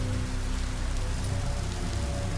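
Steady rain patters across surfaces in a video game, a dense even hiss with faint low hum and no break throughout.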